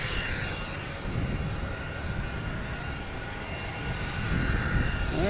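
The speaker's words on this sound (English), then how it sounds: "This is Icelandair Aurora Borealis special livery, 757 coming in from Keflavik." An Icelandair Boeing 757 in Aurora Borealis special livery comes in to land at Boston Logan Airport, its steady jet roar heard from a distance and swelling slightly near the end.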